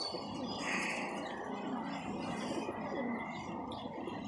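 Pigeons cooing in a loft of rounder-type (randay wale) pigeons at a breeder's show, a low soft coo mixed with chirps against steady ambient noise and faint talk.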